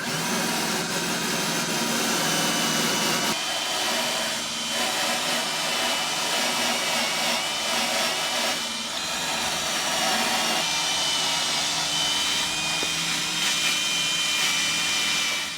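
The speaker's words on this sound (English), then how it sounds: "just use a wire wheel, and we'll clean up all these holes" A wire wheel on a power tool grinds rust from small holes in a car body panel, a steady, loud, harsh whir that runs almost unbroken, with slight changes in pitch as pressure shifts.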